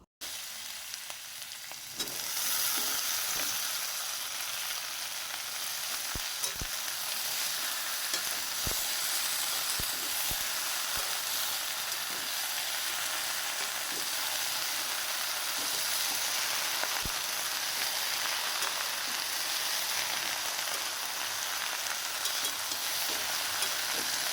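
Okra, onion and garlic fry in a hot pan with a steady, bright sizzle that runs unbroken after a brief quieter start, punctuated by occasional scraping clicks of stirring.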